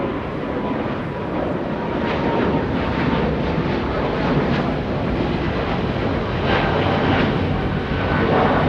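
DHL Boeing 777 cargo jet at Los Angeles International Airport bound for Sydney, a broad rumbling engine roar, fairly distant and steady, swelling slightly toward the end.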